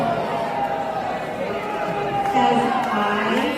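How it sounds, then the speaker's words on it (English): A crowd at a public meeting of a governing body cheers and chatters in a continuous noisy wash, with a swell of louder cheering near the end and voices mixed through it. "Listen to that crowd."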